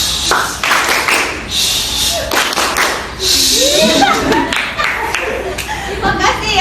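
Schoolchildren in a classroom performing a rhythmic group clapping game, with bursts of clapping, taps, chuckles and scattered laughter mixed with children's voices throughout.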